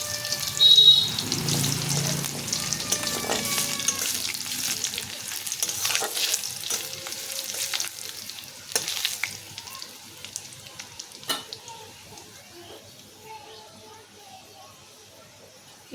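Crushed garlic cloves and whole cumin seeds fry in hot oil during a Bengali kochu shak recipe, a steady close sizzle with a few stirring scrapes that fades toward the end, while a voice talks over the first part.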